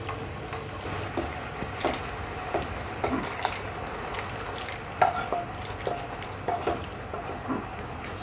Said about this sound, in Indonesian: sekarang saya akan masukkan daging yang sudah ditumis tadi ya